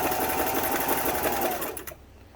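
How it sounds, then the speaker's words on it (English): A Singer 328k sewing machine runs a short zigzag stitch, a steady rapid mechanical chatter up close for a couple of seconds before it stops abruptly. "And you'd make a shorter zigzag just like that"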